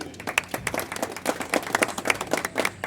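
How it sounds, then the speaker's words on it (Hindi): An audience at an awareness programme in Anantnag claps for the chief guest: dense, lively applause from a modest crowd, close and steady throughout with individual claps standing out. "जोरदार तालियां इनके लिए"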